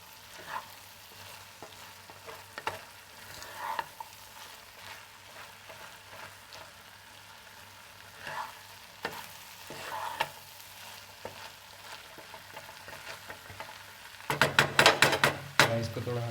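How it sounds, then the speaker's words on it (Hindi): Peas pulao with lemon juice and garam masala sizzles softly in a pot and is mixed gently, with occasional spoon scrapes and taps. A burst of louder, rapid clattering comes near the end. "अब हम इसमें ये नींबू का रस और ये गरम मसाला डालकर इसे थोड़ा सा मिक्स कर लेते हैं"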